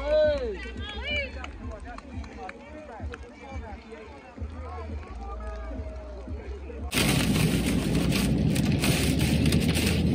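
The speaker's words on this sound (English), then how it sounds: "It's raining hard now." A voice talks over a low rumble, then a sudden loud, steady hiss of heavy rain takes over and continues to the end.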